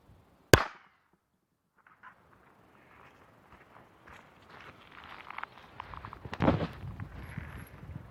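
A sharp, loud .22 LR rifle shot cracks once near the start while a golf ball is struck on a golf course, followed by quiet and then scuffing movement and rustling noise.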